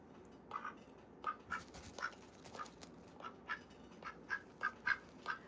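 Olivia, a pet house duck, quacks indoors in a string of short, repeated quacks, close and clear with no talking over them.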